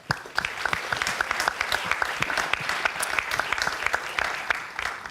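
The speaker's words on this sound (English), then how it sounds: "But first, Hans, let's give him an applause" A conference audience bursts into sustained applause, dense overlapping hand claps filling the room at fairly close range for several seconds.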